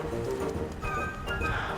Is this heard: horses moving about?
yes